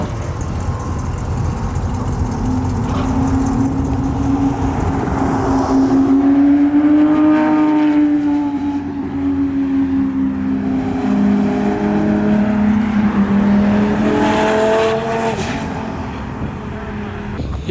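Supercars including a Ferrari Enzo accelerate out of a car meet, loud engines revving hard and rising in pitch as they pull away close by, with a brief throttle blip near the end.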